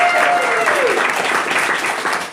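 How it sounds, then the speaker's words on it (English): Steady, loud applause from a crowd of guests at a birthday party fills the whole stretch, with a few voices faintly audible underneath. "So if you would give all of them a big round of applause,"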